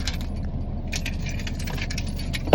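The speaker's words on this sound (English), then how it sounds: "There go my keys." Keys jangle and rattle close by for a couple of seconds, ending in a sharp clatter as they hit the floor.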